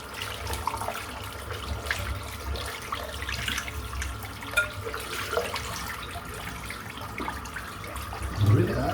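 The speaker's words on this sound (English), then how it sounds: "So I want to rinse the soap out." Water running from a tap to rinse soap out of a container, a continuous moderate splashing rush that ends in a brief louder gurgle near the end.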